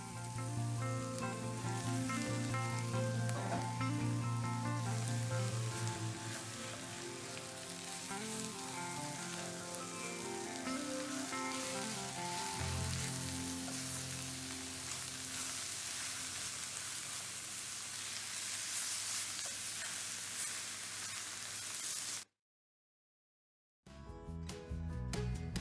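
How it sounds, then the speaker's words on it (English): Spinach sizzles steadily in a hot pan as it is stirred in for a creamed spinach dish, a constant crackling fry under soft background music, cutting off abruptly near the end. "Add the spinach and stir to combine everything."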